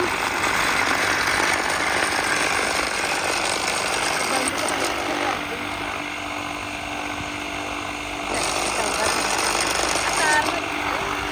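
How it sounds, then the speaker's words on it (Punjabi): A grass cutting machine runs continuously and loud nearby, a harsh buzzing, rattling engine drone with slight load changes, while someone talks over it. "ਆਪਣੇ ਮੈਮ ਪੂਰੇ ਜੋਸ਼ ਨਾਲ ਜਾ ਰਹੇ ਨੇ ਘਾਹ ਕੱਟ ਰਹੇ ਨੇ"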